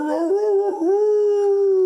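A person imitating a dog's howl, a long sustained tonal wail that wavers briefly and then holds steady, loud and close with no other sound.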